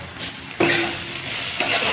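Spice paste of mustard, green chilli, turmeric and cumin frying in a pan, a loud close sizzle with scraping stirring strokes, two sharper clatters of the utensil against the pan.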